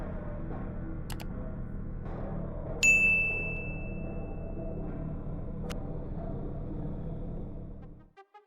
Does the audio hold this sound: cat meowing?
no